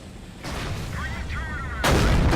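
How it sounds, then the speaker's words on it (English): Tank cannon shots in World of Tanks, with a T57 Heavy on the Pearl River map: a heavy booming blast, then a second loud report near the end over rumbling battle noise. "My gun was in the air when I fired that shot"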